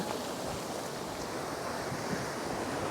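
Strong surf rolls onto Batubulong beach in Canggu, Bali, a dense continuous roar of breaking ocean waves mixed with wind buffeting the microphone, with no voices.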